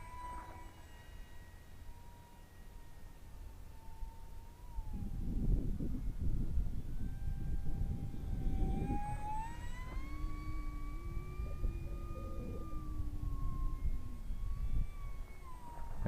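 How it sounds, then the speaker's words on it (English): A FlyBear SR-72 Darkstar RC plane with a brushless pusher motor and prop on 3S flies overhead, its motor a thin whine that rises and falls in pitch as it maneuvers, over steady outdoor wind noise. "this plane has been converted to a pusher motor and prop on 3S, and it has unlimited vertical"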